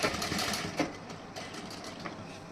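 A sewing machine stitches a blouse with a quiet, continuous mechanical whir and a faint rapid needle rhythm, fairly soft and unbroken, with no voices.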